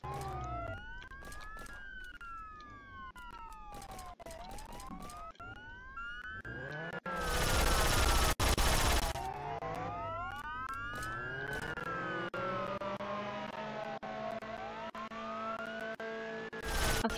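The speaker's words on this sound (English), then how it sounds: "there's so many sirens" Several police sirens in a video game wail and overlap, rising and falling steadily, with a loud burst of noise midway and background traffic rumble.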